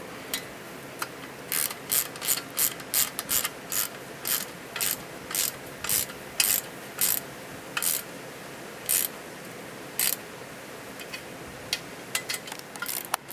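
Quarter-inch drive ratchet tightening bolts on a vacuum pump, clicking in short rapid bursts with brief pauses between strokes, close and fairly loud with no talking.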